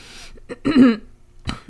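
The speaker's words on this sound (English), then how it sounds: "I'm clearing my throat right now a lot for some reason." A short, gruff throat clearing, a couple of rough bursts close to the mic, followed by a brief quieter rasp.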